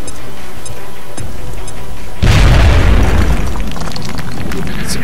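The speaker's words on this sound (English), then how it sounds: "Throwing grenade!" A frag grenade blast in the strategy game XCOM: Enemy Unknown, a sudden loud boom with a heavy low-end rumble that fades into a lingering crackling tail after a quiet stretch of game ambience.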